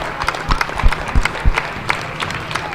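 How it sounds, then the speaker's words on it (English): Crowd at a high school girls' basketball game applauding, steady clapping from many hands with a few louder nearby claps, moderately loud and continuous. "You can hear the applause"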